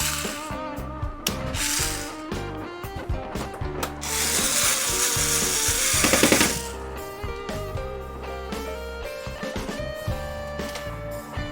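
A ratcheting screwdriver clicks rapidly while an LED TV is being serviced, with bursts of dense ratchet ticking, a longer grinding stretch in the middle, then more irregular clicks close by.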